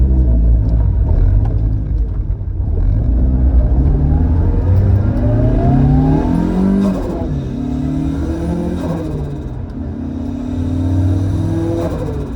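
A car fitted with a machined T51R-modified cheap turbo pulls away and accelerates, its engine note climbing through repeated rising sweeps with steady loud rumble and no talking.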